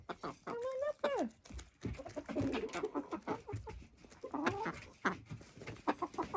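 Chickens, including a frizzle, cluck and coo close by in short, irregular bursts, with a person talking softly among them.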